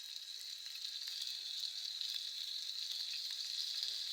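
Chicken kebabs cook in a pan over a medium flame, giving off a constant bright hiss of sizzling fat that holds steady throughout, close and even, with no voices.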